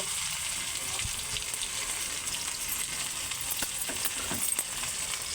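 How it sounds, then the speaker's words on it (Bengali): Chopped onion and ginger-garlic paste crackle in hot oil with a dense, continuous sizzle that holds a steady level throughout, with faint stirring taps and no voices. "এবার একটু লাল লাল করে ভালো করে ভেজে নেব।"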